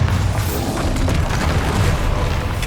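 A Bombarda spell explosion in Hogwarts Legacy, a loud deep boom with a rumbling blast that sustains for a couple of seconds, heavy in the low end.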